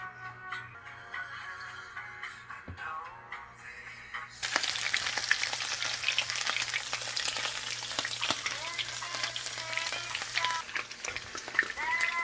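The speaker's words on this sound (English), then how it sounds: "we're going to be doing a little bit of shallow fat frying" Oil starts sizzling loudly in a pan after a few quiet seconds as salmon shallow-fries, a steady crackling fry with small pops and occasional cat-like meows.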